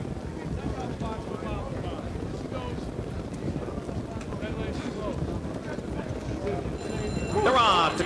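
Harness racing pacers break from the start of a $50,000 Presidential Series pace at the Meadowlands in 2003: a steady, rumbling wash of hoofbeats and track noise with wind buffeting, swelling louder near the end, while voices carry over it.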